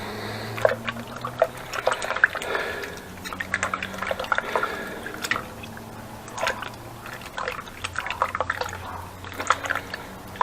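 Water sloshing and dripping as seeds are rinsed out of fruit in a small pitcher, with irregular close wet splashes, trickles and squishes over a faint low hum, no talk.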